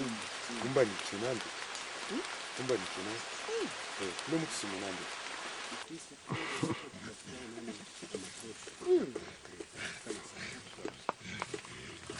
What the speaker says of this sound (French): La pluie tombe soudain sur le mont Mikeno.